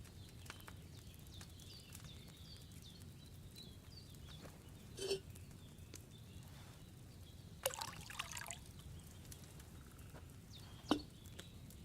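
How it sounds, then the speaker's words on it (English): Wine poured from a pitcher into a cauldron in Kingdom Come: Deliverance 2, a short soft liquid trickle with a few faint splashes and clinks against a quiet background. "So, what did you pour in there? Wine, of course."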